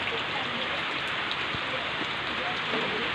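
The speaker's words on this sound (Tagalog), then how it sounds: "Lakas na naman po ng ulan." Heavy rain pours steadily and loudly onto surfaces in a rural Philippine setting, a dense continuous hiss with scattered drops and no pauses.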